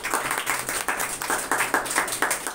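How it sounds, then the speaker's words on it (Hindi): Church congregation claps in a steady, even rhythm during a worship service, a dense run of regular claps from many hands heard close and without talk. "तालियां बजा सकते हैं।"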